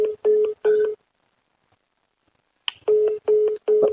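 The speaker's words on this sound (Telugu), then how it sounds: "జానీ మాస్టర్ కూడా ఒకసారి కాల్ చేసే ప్రయత్నం చేద్దాం." Phone dialing tones: three steady keypad beeps, then a pause of near silence, then a sharper click followed by three more identical beeps in an even rhythm.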